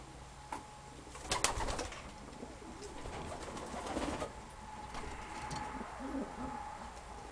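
A large racing pigeon hen coos softly in a loft, low repeated murmurs with a few brief rustles and wing sounds nearby, no voices.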